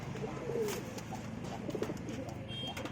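Domestic pigeons coo softly in a few low, rolling phrases against a steady background hum, with faint chirps nearby in a home pigeon loft.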